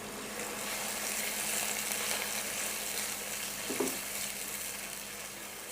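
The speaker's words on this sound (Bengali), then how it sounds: "এখন এগুলোকে আমি সুন্দর করে একটু মিশিয়ে নিই।" Ground cumin, garlic paste and salt being mixed in a frying pan, a faint, steady sizzle of oil with soft stirring and one brief spoon scrape.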